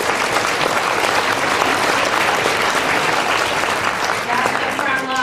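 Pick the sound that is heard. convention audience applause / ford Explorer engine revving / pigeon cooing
convention audience applause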